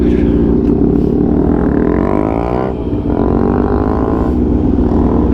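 A stunt-modified Suzuki DRZ motorcycle on a test ride, its engine droning loud and close with a steady low rumble that dips briefly as the throttle eases, then resumes.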